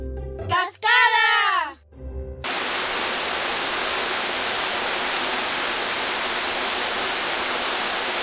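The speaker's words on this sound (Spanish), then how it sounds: "¡Cascada!" A waterfall's steady, loud rushing roar of falling water fills the clip after a short spoken voice at the start, continuing unbroken and evenly to the end.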